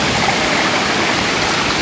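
A river in a grassy park setting flows steadily nearby, a dense, even rushing hiss of water with no breaks or voices over it.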